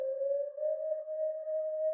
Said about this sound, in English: And lastly, I just add a sine wave